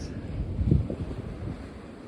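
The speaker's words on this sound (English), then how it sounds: "It's still pretty gusty." Gusty wind lingering after a wild storm, a low rumbling buffet against the microphone that swells briefly and then eases, fairly quiet and steady with no talking.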